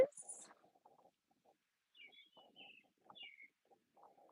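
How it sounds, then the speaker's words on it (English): Small birds chirp outdoors during an open-air yoga stretch session. A few sparse, faint high tweets and calls are scattered over quiet background, with soft low murmuring between them. "Enjoy the little chatty birds."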